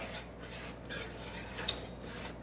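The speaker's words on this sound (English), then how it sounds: "you want to constantly stir while it's clumping" A utensil stirs clumping sugar in a pan for homemade caramel sauce, giving soft, continuous scraping and rubbing with one brighter clink, close and faint.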